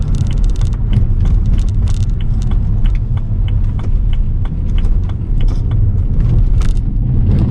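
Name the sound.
stage 1 BMW 335i car driving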